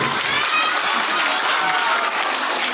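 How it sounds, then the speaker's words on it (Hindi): Loud, sustained applause fills the hall, mixed with crowd noise and some cheering, at a community felicitation event held for the 75th Independence Day. "अपने लिए एक जोरदार ताली देंगे आपके लिए"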